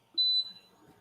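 A single short high-pitched beep from an F1 laser engraving machine signaling it is ready, close and clear over a quiet background.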